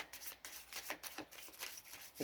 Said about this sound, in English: So this is kind of like airy shuffling.